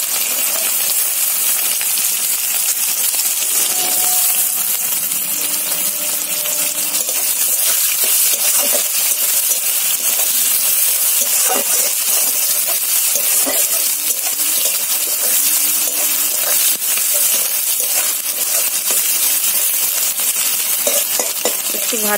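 Crushed garlic goes into hot oil in a pan with green chillies and frying onion, giving a steady loud sizzle with stirring scrapes and small metallic clinks throughout, no talk.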